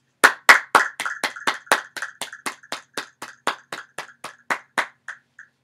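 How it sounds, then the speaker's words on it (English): Applause at the start of an online meeting, heard as one set of crisp, separate claps in an even rhythm, about eighteen in a row that gradually soften and trail off, with nothing else behind them. "Now everyone could applause."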